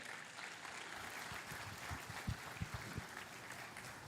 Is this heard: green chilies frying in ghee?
no